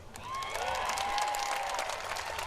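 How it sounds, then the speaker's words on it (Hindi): Crowd applauding at an outdoor political rally in Solapur, sustained even clapping throughout, fairly loud and steady, with a faint tonal line from a speaker's voice or sound system underneath. "ये अभी आप ताली जल्दी बजा गए"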